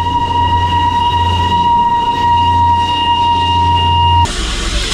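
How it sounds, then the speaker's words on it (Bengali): A coal-fired steam toy train on the Darjeeling line passes close by amid pine forest, a steady loud rumble with a sustained whistle-like tone that cuts off abruptly near the end, no talk. "এই যে টয় ট্রেনের দেখা পেয়েছি"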